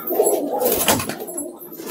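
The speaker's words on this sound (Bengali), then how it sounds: "এটা দুর্দান্ত একটা প্রচন্ড বাজির পায়রা" A powdery pigeon, a young first-adult bird, coos in soft, rolling, throaty phrases up close for about two seconds, with no other sounds around it.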